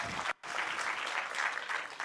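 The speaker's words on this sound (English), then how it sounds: "Let's give ourselves a round of applause for participating." Group applause closes out a health hackathon winner announcement, a dense steady wash of clapping with a brief cut-out near the start before it resumes evenly.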